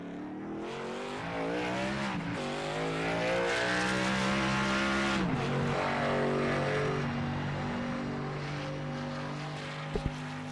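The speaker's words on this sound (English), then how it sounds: "Got the car on, shifted in the first gear," A race car engine in an Xfinity Series racing video game at Auto Club Speedway drones loud and steady, its pitch sweeping up and dropping back as it shifts gears.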